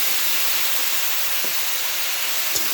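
Ground spice mix sizzling and steaming in a pan just after a splash of water goes in, while cooking pui shak with prawns; a steady, loud broadband hiss runs throughout with a couple of faint clicks near the end.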